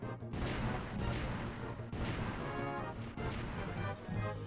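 A missile system firing in the Suikoden III video game: a run of loud, dense blasts and crashing bursts, each firing sharply and roaring for about a second, repeated four or five times in quick succession.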